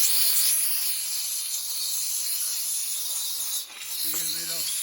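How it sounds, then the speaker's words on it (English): Steam cleaner spraying car parts on a Mercedes C36 AMG during restoration, a loud continuous close hiss that dips briefly near the end, with a faint short voice-like sound underneath. "and now we're gonna use a steam cleaner."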